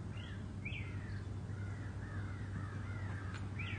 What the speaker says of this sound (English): The birds are really loving each other. They're like, "Caw."